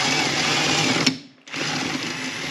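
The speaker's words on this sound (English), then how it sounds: "I'm just going to put my drill back on here and spin it." A cordless drill whirs steadily while spinning the oil pump of a 1939 Caterpillar D4400 diesel engine to rinse it with diesel, cutting out briefly before starting up again, loud and close.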